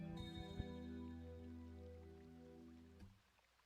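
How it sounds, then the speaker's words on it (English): Heavy rain pours in a Blue Archive game scene, a steady soft wash under sustained musical tones that fades out near the end. "Whoa, it's pouring, just like that."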